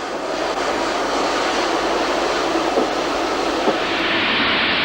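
Beattie well tank steam locomotive No. 30587 running in 1957 livery, a steady broad rumble and hiss that holds loud throughout, with a brief sharper clank near the end.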